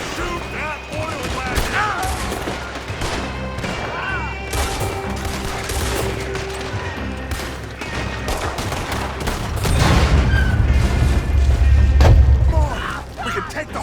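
Gunfire crackles through a mission in Red Dead Redemption 2, with bursts of shots and booms layered over a busy game soundtrack and voices, swelling into a heavier explosive rumble near the end.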